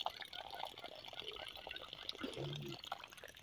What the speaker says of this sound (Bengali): আর আছে এই যে জল পড়ছে।